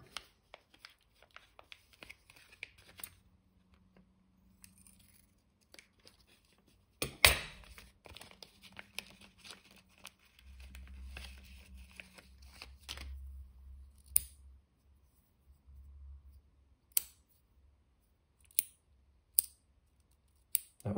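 Scissors snip through pen packaging to free OZ Machine Co pens, giving sparse, close clicks and cuts with one sharp knock partway and a soft low rustle of plastic in the middle, no talking.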